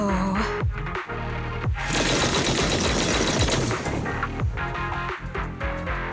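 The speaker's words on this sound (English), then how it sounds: "That was the sound of a heavy cannon?" Heavy cannon fire in the Zenless Zone Zero video game: loud, dense bursts of rapid booming blasts and crackling impacts, broken by brief pauses, with no speech.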